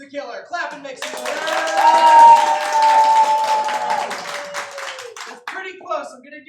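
Theatre audience at an improvised whodunnit applauding during a vote, a swell of clapping mixed with cheers that rises, peaks, then fades to a few scattered claps, with a voice speaking over the edges.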